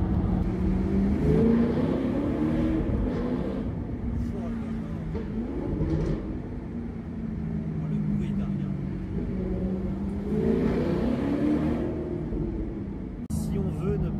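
Alfa Romeo 8C Competizione engine droning steadily under continuous talking, easing off as gears change and then pulling again with a rising growl.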